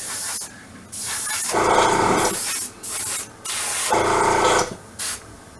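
Tamiya XF20 paint sprayed onto an M551 Sheridan model tank turret, several close hissing bursts of varying length, some short and some over a second, separated by brief pauses.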